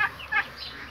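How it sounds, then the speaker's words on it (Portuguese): A rooster kept with laying hens makes a couple of short clucking calls, close and fairly clear, over a quiet outdoor backdrop on a farm. "Isso aqui é um espaço que tem esse galo aqui com umas galinhas poedeiras, sabe?"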